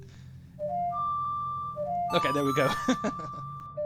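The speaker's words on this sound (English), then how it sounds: "It's the Song of Storms." Ocarina tune of the Song of Storms from the Zelda game Majora's Mask 3D, a few clear held notes that rise and fall. Game sound effects and a brief spoken remark follow over it.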